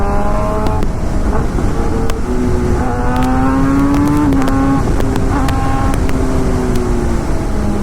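A Suzuki GSX-R1000 sport motorcycle engine drones loudly while riding, its pitch rising and falling with shifts in speed, steady wind noise behind it.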